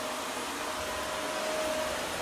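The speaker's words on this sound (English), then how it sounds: "And he decides to vacuum." A vacuum cleaner runs indoors with a constant, loud broadband whoosh and a thin steady whine, unbroken for the whole stretch with no voices.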